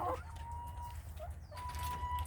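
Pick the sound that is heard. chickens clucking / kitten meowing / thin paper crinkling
chickens clucking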